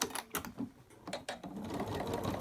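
Sewing machine stitching fabric for an overlocker cover, running in short bursts with pauses and a brief stop for a backstitch, close and fairly loud, no talking.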